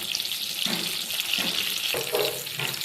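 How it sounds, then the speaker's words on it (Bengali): Eggplant slices dropped into hot oil in a pan for begun khasi, a loud hissing sizzle with bursts of spattering as pieces go in, steady and close with no talk. "এখানে আমি বেগুনগুলোকে ভাজার জন্য প্যানে তেল দিয়ে দিয়েছি। তেল আমার গরম হয়ে গিয়েছে। এবার বেগুনগুলোকে দিয়ে দিব।"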